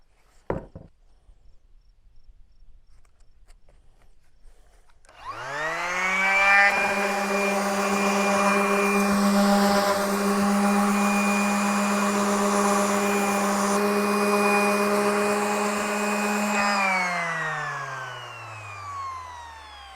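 A power sander with 80 grit paper starts up after a few quiet seconds and grinds steadily across an end-grain cutting board, a close, loud whine that holds for about twelve seconds before spinning down.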